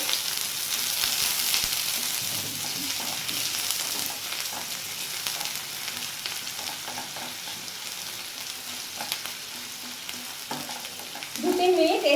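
Onions fry in oil over medium heat with a continuous crackling sizzle, occasional stirring scrapes, and a louder clatter of a utensil near the end.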